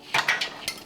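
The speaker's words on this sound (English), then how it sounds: "Just use the old meat hammer." Three or four quick metallic knocks from a meat hammer striking a metal part on a C10 truck, close and sharp, each with a short ringing decay.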